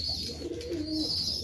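A single low, soft pigeon coo rises briefly over a steady background hiss, close and moderately quiet.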